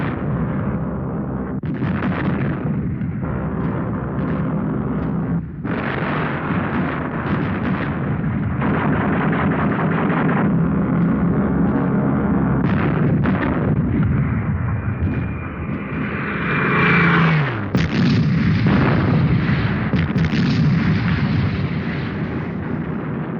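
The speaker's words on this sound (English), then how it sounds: "over 200 Allied bombers pounded the monastery into rubble" Over 200 Allied bombers pound a monastery in Italy in February 1944, with loud, sustained rumbling explosions and heavy blasts that roll on continuously, swelling into a bigger burst near the end.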